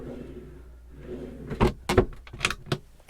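Drawers beneath a berth in the third cabin of a 2005 Sunseeker Manhattan 50 yacht slide open and shut, several close, sharp knocks and thuds after a quiet start.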